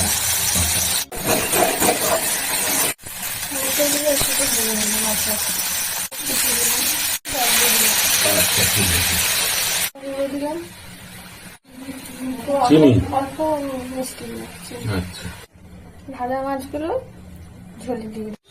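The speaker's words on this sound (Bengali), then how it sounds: "মাছগুলো ভাজা হয়ে গেছে গরম মশলা ফোড়ন দিলাম আদা রসুন লঙ্কা পেঁয়াজ" Whole garam masala, ginger, garlic, chili and onion hit hot oil for a rui fish kalia tempering, producing a loud broadband hiss that cuts in and out while a person talks over it.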